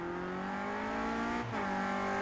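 Clio Cup race car at Hockenheim braking hard, engine note steady then dropping sharply with a brief tyre slide, loud and close, no talking.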